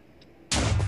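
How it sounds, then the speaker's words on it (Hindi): A firecracker called Cyber explodes in a video game. A quiet lead-in gives way midway to a sudden loud blast that holds as a dense, sustained roar to the end, with no talking. "पर काफ़ी अच्छा धमाका था।"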